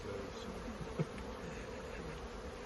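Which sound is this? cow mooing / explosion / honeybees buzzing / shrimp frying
honeybees buzzing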